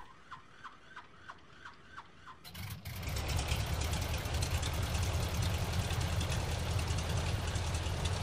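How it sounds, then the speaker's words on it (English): In Microsoft Flight Simulator 2020, several rhythmic clicks, then the Carenado YMF-5 aircraft engine whines up and roars into a steady, loud drone that holds to the end. "Let me just start her up."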